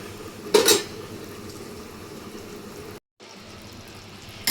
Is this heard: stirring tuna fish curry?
yes